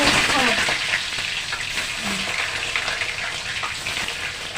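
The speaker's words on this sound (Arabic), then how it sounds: "دلوقتي بقى بصوا صفينا البتنجان وهنقليه بقى." Eggplant slices fry in hot oil with a steady, dense sizzle that stays loud and close throughout, plus faint bubbling crackle and a brief low voice murmur in the background.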